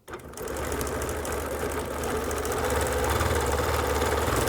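A sewing machine stitches free-motion swirls and hearts on fabric, a steady, dense mechanical whir with a rapid needle rhythm that runs close and loud for the whole stretch.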